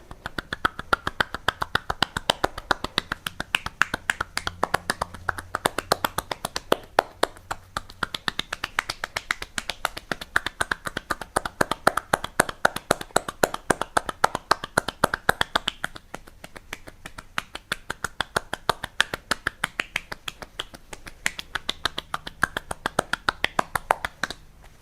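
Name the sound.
ASMR massage tapping on lower back with cupped palms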